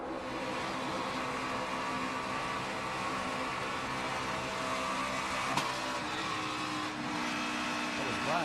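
A NASCAR race car engine drones steadily and loudly from start to finish during the 2012 DRIVE4COPD 300, a constant roaring hum with slight shifts in pitch.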